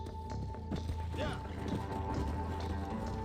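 Horse hooves clip-clopping at a gallop in the Red Dead Redemption game, a steady rhythmic beat under continuous game background sound and speech-like noise throughout.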